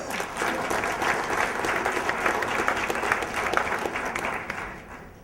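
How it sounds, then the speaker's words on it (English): An audience at an adult education graduation ceremony applauds in a steady, full round of clapping that fades near the end. "That's right, that's an applause."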